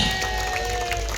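An outdoor crowd at the Bakul Fest culinary food festival in Banjarmasin claps steadily, a dense, continuous wash of many hands mixed with crowd noise.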